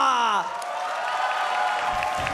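Arena crowd at an esports match between Bigetron Alpha and Evos Legends cheering and applauding, a broad steady roar that starts just after a brief shouted voice and holds loud throughout.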